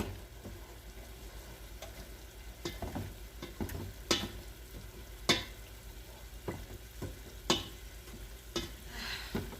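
Frozen meat thaws and sizzles in a hot pan while a Puerto Rican style chile cooks, a soft steady frying hiss broken by scattered pops and sharp crackles.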